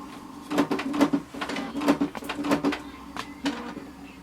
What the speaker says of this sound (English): So open the front cover and then this cover.